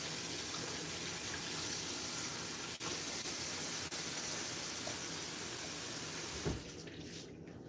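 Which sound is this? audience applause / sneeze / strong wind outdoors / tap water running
tap water running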